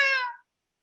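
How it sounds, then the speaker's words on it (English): A single short cat meow, close and clear, lasting under half a second before silence. "Oh, look at the little kitty."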